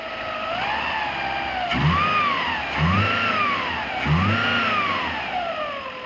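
A crash-damaged salvage car's engine, just started, is revved three times in succession, each rise and fall sweeping up and back down over a rough idle, heard up close.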